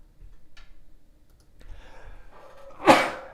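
A single sharp sneeze bursts out near the end, loud and close against a quiet room with faint ticking and small background noises.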